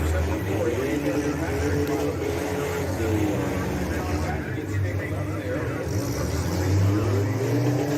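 Demolition derby cars rev their engines together at the start of a Florida consolation heat, a dense, continuous roar of several motors surging and easing, with an announcer's voice running over it.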